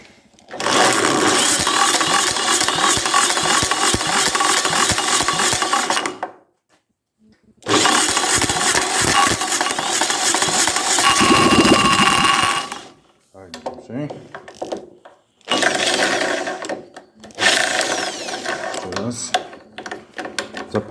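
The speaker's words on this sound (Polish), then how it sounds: "włączamy tutaj zapłon. Paliwo jest odkręcone i próbujemy zapalić" The engine of a Fiat 126p, running with the timing cover off, cranks and runs in several loud, clattering mechanical stretches with brief pauses between attempts.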